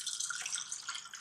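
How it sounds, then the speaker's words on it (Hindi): Cold water pours over strained boiled potatoes in a kitchen, a short, quiet, bright splashing trickle with no talk. "अब इस पर हमें ठंडा पानी डाल देना है"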